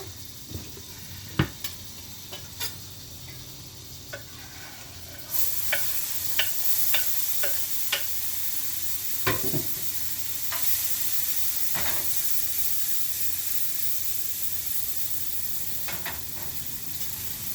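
Cheese steak sandwich ingredients, including onions, fry on a hot pan with a continuous sizzle. A utensil stirs and scrapes with intermittent clicks and taps, and the frying grows louder and denser partway through.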